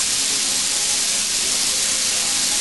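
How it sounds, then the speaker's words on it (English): Onion hits hot margarine in a frying pan and sizzles with a steady, loud, unbroken hiss throughout. "Once you got the margarine sizzling like that, just throw your onion on top of it."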